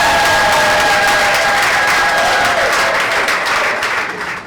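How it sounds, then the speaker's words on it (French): A crowd applauds loudly and steadily at a town hall wedding, dense clapping that tapers off slightly toward the end. "Applaudissez pour eux."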